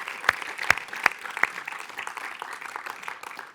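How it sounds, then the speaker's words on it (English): Applause for jury members at the VR NOW Award ceremony: a few loud, close, evenly spaced claps ring out first, then a crowd's lighter, scattered clapping carries on. "so that people can applaud"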